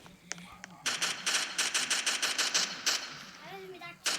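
Video game gunfire in rapid bursts, a run of sharp repeated shots lasting several seconds, loud and close, with a few isolated shots just before it and a voice talking briefly over the game sounds.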